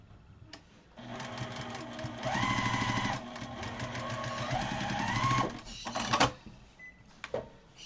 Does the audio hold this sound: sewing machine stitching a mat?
yes